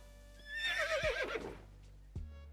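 A horse in the Star Stable Online game, an updated Morgan, gives a loud whinnying neigh of about a second and a half while rearing, with hoof thuds before and after it.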